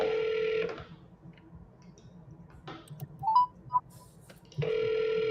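A phone rings with an incoming call during a live seller call-in show, two electronic ring bursts at the start and end separated by a quiet stretch with a few faint clicks.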